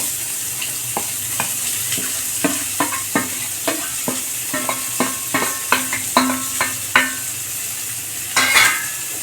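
Chopped onions frying and sizzling in a hot pan with garlic and ginger, with repeated clinks and scrapes of a spoon stirring throughout.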